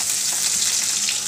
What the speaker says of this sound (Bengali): মুরগি রান্না করব, তার জন্য পেঁয়াজ দিয়ে দিচ্ছি চুলাই